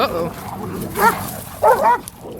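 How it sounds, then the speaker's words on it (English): Dogs at a park make a few short, sharp barks and yelps in quick bursts, mid-distance, over a busy outdoor background with voices. "there's another dog being aggressive"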